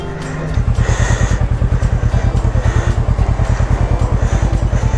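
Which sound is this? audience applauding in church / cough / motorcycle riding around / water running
motorcycle riding around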